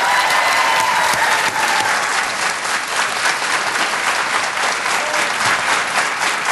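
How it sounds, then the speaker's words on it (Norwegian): Loud, sustained studio audience applause for an international rhythmic gymnastics judge on a Norwegian late-night show, dense, even clapping with no break throughout. "Gi en stor applaus til Bente Bjørnes!"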